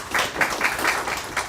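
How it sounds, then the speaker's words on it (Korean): An audience at a metaverse policy forum applauds a presenter, a short burst of steady, dense clapping from a room full of people. "티파니 매니저님께 다시 한번 큰 박수를 부탁드리겠습니다"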